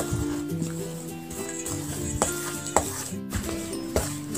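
Sweet potato pia dough being stirred in a bowl, a series of soft scraping and knocking strokes with a few sharper taps against the bowl, over faint background music.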